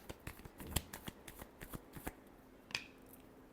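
Tarot cards being shuffled in a final pass, a run of crisp, rapid riffling clicks and soft slaps close by, with one sharper snap near the middle and no talking.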